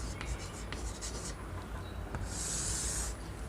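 Marker or chalk writing on a classroom board, faint scratchy strokes over a steady hiss of room noise, with one brighter sustained squeak near the end.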